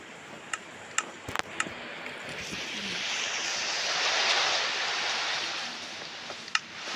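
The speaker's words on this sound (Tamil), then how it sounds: "பார்த்தீங்களா? மழையாக வந்துருக்குதுங்க." Rain in the Minecraft video game, a steady broad hiss that builds in the middle, with a few sharp clicks and taps scattered over it.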